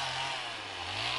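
A Druzhba chainsaw cutting firewood, a brief loud buzzing engine drone holding a steady pitch over a harsh high-pitched rasp.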